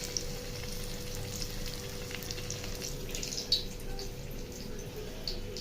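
Onion bajji batter hits hot oil, giving a steady, fairly soft sizzle with a few sharp pops scattered through it.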